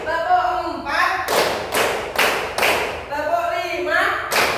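A grade 5 class claps hands in a counted clap routine in a classroom, with several sharp group claps in a steady rhythm alongside a spoken count.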